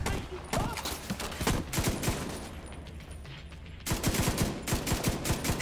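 Rapid bursts of RPK machine gun fire in The Division 2, loud and close with heavy repeated volleys, a brief lull midway, then another dense burst of shots near the end.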